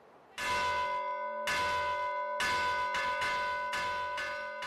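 The largest bell of a village church in the Jerte valley, Spain, tolls in loud, close, resonant strokes about once a second, with long ringing overtones between hits.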